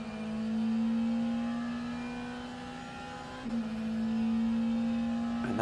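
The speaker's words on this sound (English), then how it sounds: "that McLaren is accelerating in neutral" A McLaren race car's engine revs in neutral in a racing video game during a 10 Hours of Daytona endurance race, a steady high-pitched whine that dips slightly midway and then climbs again, loud and alone with no voices.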